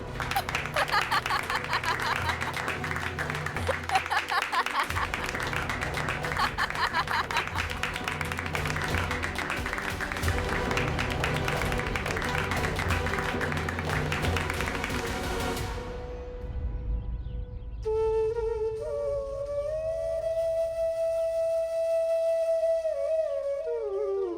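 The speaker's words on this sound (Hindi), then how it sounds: "बजाओ ताली।" Applause and clapping in a Hindi television drama about Dr B R Ambedkar: a steady, dense patter of many hands that runs continuously for about fifteen seconds, then gives way to a swelling melodic music cue.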